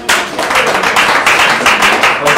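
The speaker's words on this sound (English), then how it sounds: "They already started clapping" An audience claps loudly and continuously at a quiz final, a dense burst of many hands close by with steady rhythm for a couple of seconds.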